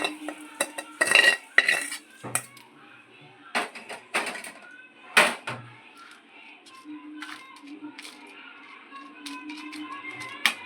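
Metal utensils scrape and clatter against a pan while sautéed ingredients for a pirandai thuvaiyal are tipped out, giving irregular close clinks and scrapes with pauses between them.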